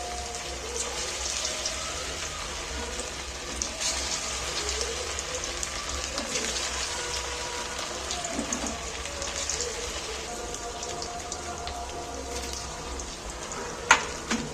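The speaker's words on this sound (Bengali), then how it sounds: "ম্যারিনেট করা মাংসটা এবার আমি তুলে দিচ্ছি একটা একটা করে।" Marinated chicken pieces fry in oil over gentle heat, making a soft, continuous crackle like light rain, with a few small knocks and a sharp clink near the end.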